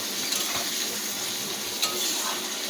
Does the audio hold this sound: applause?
no